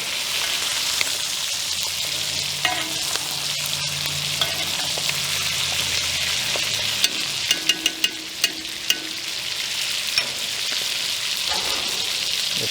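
Steak frying in butter in a cast iron skillet, a loud continuous sizzle with crackling pops and spatters, close and steady throughout.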